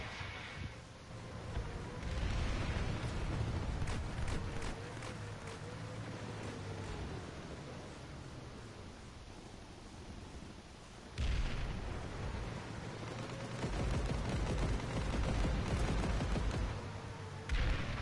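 Gunfire from an infiltrator in Planetside 2, a sci-fi shooter game: dense, continuous rattling fire and rumbling blasts under a constant background roar, with a sharp louder surge partway through.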